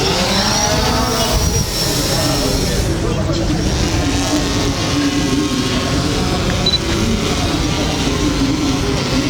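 A drone lifts off and flies, its rotors making a loud, continuous whine that wavers in pitch as it climbs. Voices can be heard beneath it.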